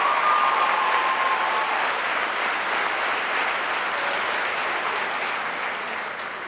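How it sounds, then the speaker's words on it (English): A large audience applauds steadily at a high school graduation ceremony, a dense, even wash of clapping that tapers slightly toward the end. "Go ahead, clap, that's right, you deserve it"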